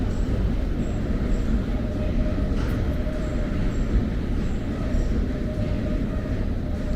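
London Underground train at Edgware Road station, a steady close rumble of the carriage running through the tunnel with a constant roar and faint squeal tones, continuous and loud throughout, no voices.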